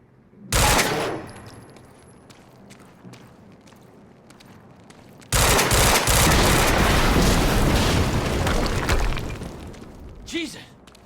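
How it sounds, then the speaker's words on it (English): A loud blast early on, then a sustained barrage of rapid gunfire and explosions lasting several seconds, dense and close, fading near the end. From the video game Quantum Break. "HQ, we just heard an explosion near the harvesting perimeter."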